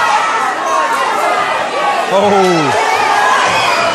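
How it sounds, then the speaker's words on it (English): Spectators at a mixed martial arts bout roar and chatter in a loud sustained crowd din, with a voice shouting out over the noise near the middle. "And the crowd are loving this."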